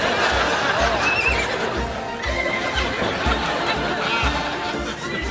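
A horse whinnies amid a busy, noisy scene with people chattering and laughing nearby throughout.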